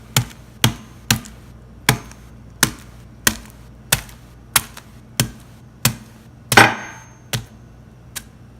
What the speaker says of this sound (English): Gonna crush it. I want to crush it all up into slush.